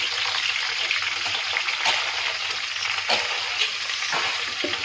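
Green chillies and ridge gourd pieces frying in hot oil on a low flame, a dense continuous sizzle with occasional crackles and light stirring clicks, close and steady throughout with no talking.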